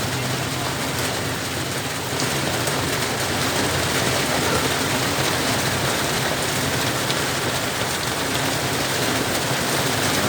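Heavy rain pours down in a dense, steady hiss, drumming evenly on surfaces with no pauses or voices across the whole stretch.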